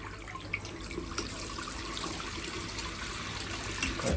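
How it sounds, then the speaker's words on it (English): Water runs steadily from a hotel bathroom tap at the APA Hotel Ueno Inaricho Ekikita, a constant hissing splash with a few faint clicks and knocks, no talking. "you can control the water to turn on here, water"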